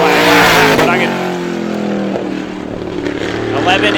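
Race car engine at Star Speedway during ISMA supermodified time trials, a steady loud drone with shifting pitch as the car laps, talk running over it throughout.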